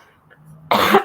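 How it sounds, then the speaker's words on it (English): One short, harsh cough bursts out close to the microphone after a near-silent pause, a single abrupt throaty blast lasting under half a second. "Sorry, I keep coughing."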